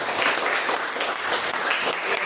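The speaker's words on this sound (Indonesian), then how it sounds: "tepuk tangan untuk semuanya." A group of schoolchildren in a classroom claps hands together in a dense, continuous burst of applause, fairly loud and close.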